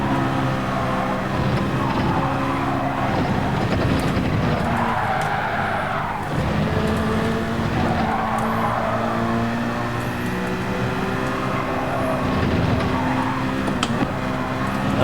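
A race car skids and drifts in a racing video game played on a Fanatec CSL DD or GT DD Pro wheel base, its engine a steady, loud drone with tire squeal running throughout.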